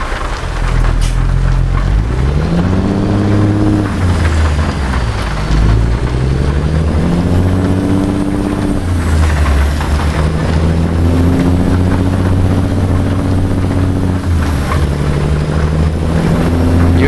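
A Kenworth T-680 Next-Gen truck engine in American Truck Simulator pulling hard, a loud continuous diesel drone that rises in pitch through several gears, dropping at each shift and climbing again.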